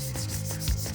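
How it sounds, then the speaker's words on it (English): Hand sanding on the face of a Camaro wheel before painting, a close, loud rhythmic rubbing with quick back-and-forth strokes repeating several times a second. "I'm just sanding the face of the wheel."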